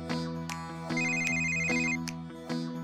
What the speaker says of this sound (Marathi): सूर्या, तुळजाचा फोन आहे.